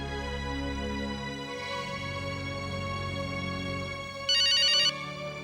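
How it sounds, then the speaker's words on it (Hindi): A telephone rings with a steady electronic ringtone, a continuous tonal pattern with a brighter burst near the end, heard alone with no voices, as a woman places a call in a Hindi TV drama. "मैं अभी अंतरिक्ष को फोन करती हूँ"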